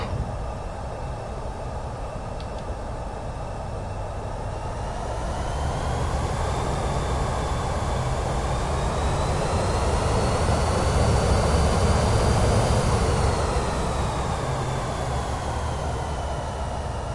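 Simulated airliner engines in Microsoft Flight Simulator 2024 hum steadily with a broad roar and rising whine during a short taxi at night in Greece, swelling slightly midway and staying continuous without talk.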